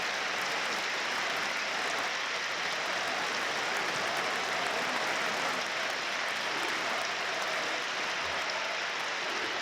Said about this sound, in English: round of applause breaks out around the stadium